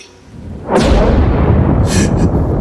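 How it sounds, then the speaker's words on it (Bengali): A loud thunderclap bursts in suddenly after a brief quiet start, then rolls on as a heavy, sustained rumble with a faint crackle, all alone with no voices. "বিকট জোরে একটা বাজ পড়ল"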